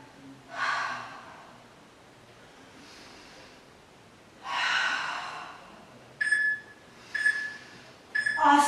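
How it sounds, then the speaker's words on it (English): A sharp, forceful breath during a legs and core workout, with several distinct breathy exhales in a loose rhythm and brief electronic beeps near the end, close to the microphone, with no talking. "Big exhale as you flex up."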